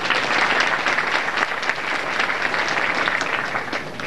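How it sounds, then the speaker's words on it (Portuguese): A graduation audience at a 2005 CEFET-PB technical course ceremony in Cajazeiras claps loudly and continuously, a dense even wash of applause filling the hall throughout. "para quem a gente pede uma salva de palmas dos presentes."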